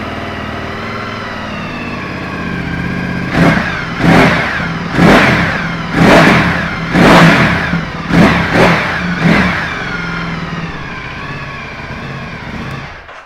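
A 2019 Ducati Multistrada 1260S ABS motorcycle idles steadily, then revs hard in a series of about seven sharp throttle blips, some in quick pairs, before settling back to idle, loud and close with no talking.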